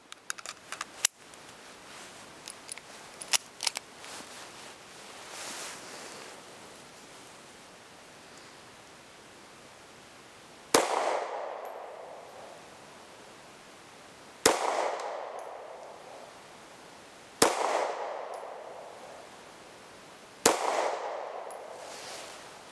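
Four loud, sharp pistol shots from a Sig Sauer P938 Legion firing 9mm rounds at a range, spaced about three to four seconds apart, each ringing out with a decaying echo after quieter handling noises.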